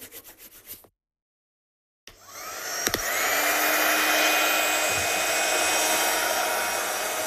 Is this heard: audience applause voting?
no